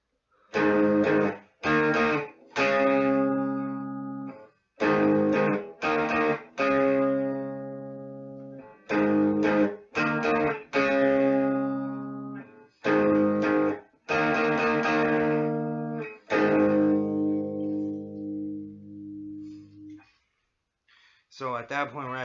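The Angry Video Game Nerd theme melody played as distinct, evenly spaced synthetic notes and short phrases with brief gaps between them, clear and upfront, ending in a longer held tone.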